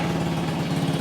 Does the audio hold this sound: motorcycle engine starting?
yes